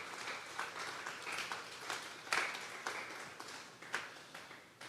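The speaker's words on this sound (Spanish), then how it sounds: "Vamos a darle un fuerte aplauso al Espíritu Santo esta mañana o esta tarde." Church congregation at a Sunday afternoon service claps together, a faint, distant patter of many hands with scattered sharper claps and no talking.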